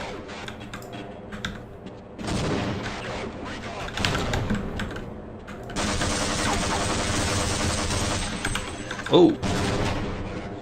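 Grenade blasts and rapid gunfire from the video game Half-Life, loud and dense, with a sustained burst of shooting through the second half and a sharp bang near the end, under a man's brief exclamation.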